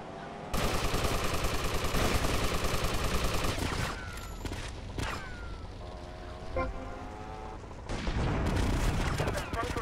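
Rapid automatic gunfire in Grand Theft Auto Vice City, long sustained bursts of fast repeated shots at close range, pausing briefly midway with scattered single shots, then resuming in a loud burst, with a voice reacting briefly over it.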